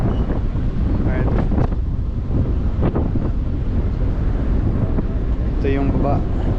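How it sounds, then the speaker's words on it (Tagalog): Strong wind roars steadily across the microphone on the deck of a passenger boat travelling from Bohol toward Tagbilaran City, loud and continuous, with a voice speaking briefly under the gusts. "ang lakas ng hangin."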